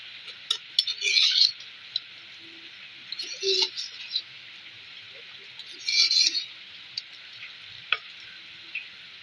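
Fish pieces in spiced masala frying in a pan, a steady faint sizzle with intermittent louder bursts of hissing and stirring scrapes.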